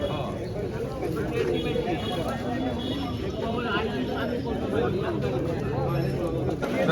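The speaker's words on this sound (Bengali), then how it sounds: "সেখানে খুব সুন্দর রানিং দুই জোড়া কবুতর দেখতে পাচ্ছি" Pigeons coo softly amid a busy background of chatter and voices, with steady crowd noise throughout, at the pigeon market at Katakhali haat in Rajshahi, Bangladesh.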